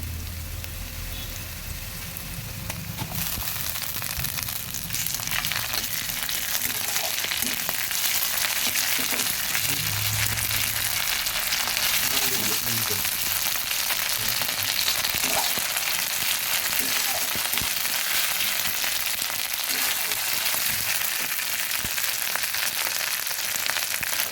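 Ginger paste fries in a pan of hot oil for a kechki fish dish with flat beans and potato, giving a loud, dense crackling sizzle that holds steady throughout with no voices.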